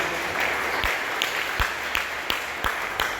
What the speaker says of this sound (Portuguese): Palmas bem alegres, exalta e glorifica o nome do Senhor.